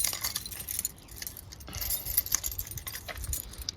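A bunch of metal railway padlock keys jangles and clinks close by in quick, irregular rattles while someone sorts through them to find the right one for a padlock.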